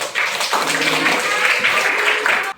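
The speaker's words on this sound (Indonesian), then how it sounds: "Tepuk tangan dulu" Applause from a classroom audience during a teaching session in Indonesia: a dense wash of many hands clapping together, steady and fairly loud for over two seconds before stopping abruptly.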